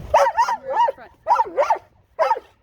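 A dog barks in short bursts of two or three yips each, separated by brief pauses, sounding near, loud and slightly whiny in pitch.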